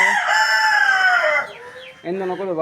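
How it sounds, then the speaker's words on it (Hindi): Chickens and a rooster are close by, starting with a loud drawn-out crow that fades, then a brief gap and a burst of clucking. "क्योंकि यहाँ पे मुर्गियाँ हैं और भी इधर परिंदे वगैरह घूमते हैं"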